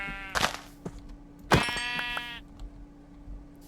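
Blocky sheep in the Minecraft video game bleat twice, a short bleat followed by a longer, louder one, standing out clearly against a quiet game background with a steady faint hum.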